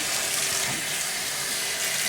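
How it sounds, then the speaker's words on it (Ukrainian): Running tap water rinses hair without shampoo during a keratin SPA treatment, a steady, close hiss of flowing water that continues unbroken with no voices. "Тепер ми змиваємо без шампуню, проточною водою"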